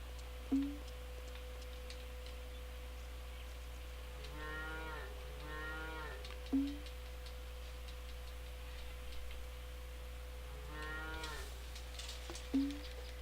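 Cows moo in the farming video game Farmer's Dynasty, three drawn-out lowing calls at moderate distance, over a steady mechanical hum with a ticking clock and a periodic short chime.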